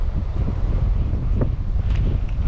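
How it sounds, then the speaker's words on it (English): Strong wind buffets the microphone on open water while out fishing in a storm, a steady low roar with gusty swells and faint splashes, close and continuous with no voices. "on a day like today, it's just too windy, man."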